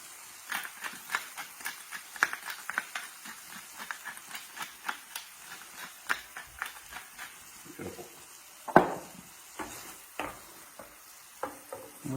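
Tomato passata simmering in a pan while being stirred, a steady stream of soft clicks and scrapes with low bubbling, one louder knock partway through, no talking.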